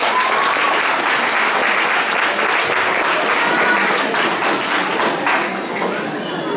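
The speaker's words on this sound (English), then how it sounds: "Let's give all of the teams a big round of applause." Audience applause at a community Eid and Kerala Piravi celebration: a dense, steady wash of many hands clapping, loud and close, lasting throughout and easing slightly toward the end.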